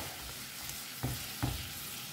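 Tomato puree for rajma cooking in a pan, giving a soft steady sizzle with two brief stirring scrapes about half a second apart, no talking.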